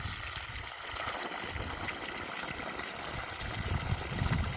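Water gushes steadily from a new single-phase electric motor pump in a village, a dense continuous rushing flow that stays close and even throughout with no talking.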